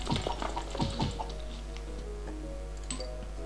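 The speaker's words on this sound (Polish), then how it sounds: "Patrz jak głośno słychać naciśnięcia przycisku myszy." A quick series of sharp computer mouse button clicks while playing Plants vs. Zombies, close and crisp, a few in fast succession, then sparser taps over a low steady hum.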